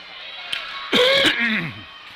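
A hockey commentator, fighting a cold during a women's game broadcast, clears his throat in one harsh, close burst followed by a short raspy cough trailing off over a quiet background.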